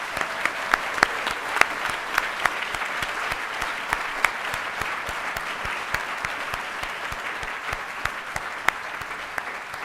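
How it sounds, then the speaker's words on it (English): A crowd at The Grand Moot 2024 applauds the evening's mooters, giving steady, dense clapping with a few sharper individual claps standing out near the listener, kept up evenly throughout. "If we could get a huge round of applause for tonight's mooters."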